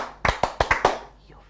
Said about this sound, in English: If you hear me, clap 3 times.